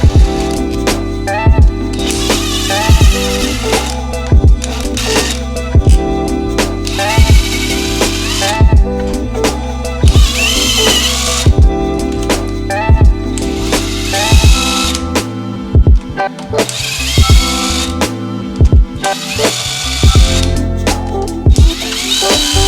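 A power tool whirs in repeated short bursts, loud and close, as it removes the casing bolts from an Evo 10 transmission, with brief pauses and clicks between runs.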